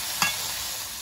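Malabar spinach, potato and river crab fry in a pan with a steady soft sizzle, broken once early by a single sharp clack of a stirring utensil.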